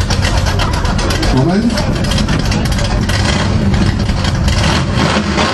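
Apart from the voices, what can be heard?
Ford Mustang Eleanor engine running and revving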